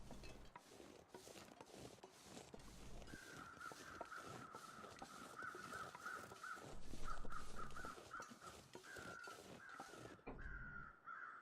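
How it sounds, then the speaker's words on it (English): Crows caw repeatedly in a loose, ragged series in The Long Dark, faint and somewhat distant within a snowy forest, under a steady rustling wind-like bed and crunching footsteps. "Those crows, oh, I thought I got a glimpse of them."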